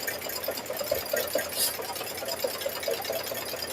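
An embroidery sewing machine stitching keychains in the hoop gives a steady, fast mechanical whir and patter at moderate volume, continuous throughout.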